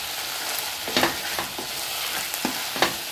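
Sabudana khichdi with sesame seeds is stirred in a hot pan, giving a steady sizzle broken by a few scraping spoon strokes. Close and continuous, with no talking.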